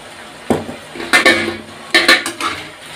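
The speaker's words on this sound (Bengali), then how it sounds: "নাড়াচাড়া করে" A utensil stirs banana flower curry in a metal cooking pot, giving several sharp clanks and scrapes at an irregular pace, close and loud, with no talking.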